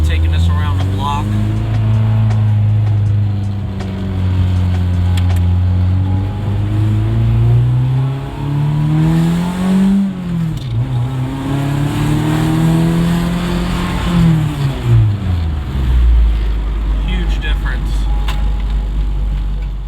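Honda Integra with new motor mounts driving and revving, a steady low engine drone rising and falling in pitch through several rev climbs, loud and close throughout, with a person talking over it.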